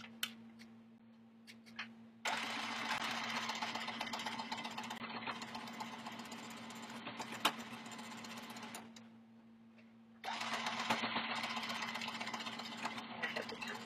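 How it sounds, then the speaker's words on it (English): A sewing machine stitches quilt rows together in two long, steady runs of rapid mechanical whirring, separated by a brief pause, close and fairly loud with no talking. "I'm ready to sew this together. I'll just do that real quick so y'all can see."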